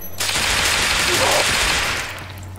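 Rapid gunfire from a shooting fight against zombies in the Roblox survival game Those Who Remain, a dense sustained burst of shots lasting a couple of seconds over low game noise.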